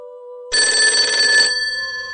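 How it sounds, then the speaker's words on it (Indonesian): A house telephone bell rings loudly in one sustained burst, its bright metallic trill cutting in suddenly and then ringing on steadily. "Telepon rumah kembali berdering."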